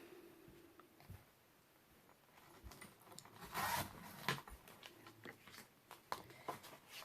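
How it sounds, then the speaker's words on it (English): Scissors or a paper trimmer cut leftover craft paper for a mini album, a soft, close, faint rasping and rubbing with a few light taps and a slightly louder slicing stretch in the middle. "I'm going to grab my leftover papers again, and I'm going to cut at 3 3/4."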